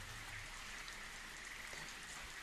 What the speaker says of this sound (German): Der plötzliche Regen hat die Zündschnur gelöscht, bevor das Dynamit explodieren konnte.